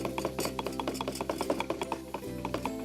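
Two knives chop rapidly on a board through minced fish for Balinese satay lilit, a quick, dense run of light tapping and clacking close by.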